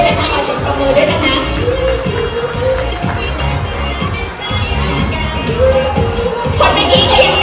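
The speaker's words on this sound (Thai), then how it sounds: "ขอเสียงปรบมือด้วยนะคะ" An audience claps at a children's modelling contest award ceremony at Yoyo Land, a steady dense patter of applause with crowd murmur beneath, continuing throughout at moderate loudness.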